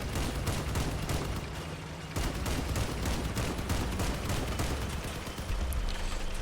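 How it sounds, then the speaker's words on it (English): Medium machine guns and 20mm autocannon fire continuously in the Crossout vehicle combat game, a dense, loud stream of rapid shots and bursts with a brief dip before the firing resumes. "He's using medium machine guns and 20mm autocannon."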